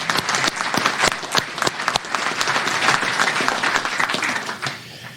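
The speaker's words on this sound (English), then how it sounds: "A little round of applause for all of those folks" Sustained applause from an audience fills a room at a university athletics Hall of Fame induction ceremony, with steady, moderately loud clapping that tapers off near the end.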